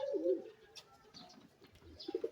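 Pigeons fly off after being released from a bath, with a loud near coo, soft flutter and a few more coos close by.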